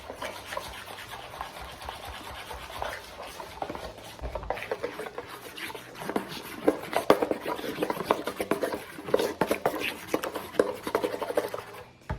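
Continuous soft scraping and tapping as thick, slightly lumpy banana fritter batter is stirred in a bowl, getting busier and more irregular toward the end, with no talking.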